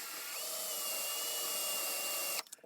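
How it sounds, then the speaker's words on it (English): A hand drill spins a stub of an Indian Scout motorcycle seat mount while a file works its edge, producing a steady high whine that holds for over two seconds and then cuts off abruptly. "Now insert the stub into a hand drill and we're going to file down the edge slightly."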